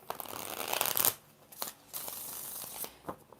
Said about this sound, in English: 5 shuffles for Aaron